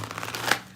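A deck of cards shuffled in a quick run of light soft rustles ending in a sharper snap, close and quiet with no voice.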